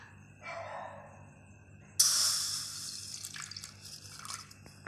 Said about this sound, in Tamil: இப்போ வந்து நம்ம தண்ணி ஊற்றிக்கலாம்.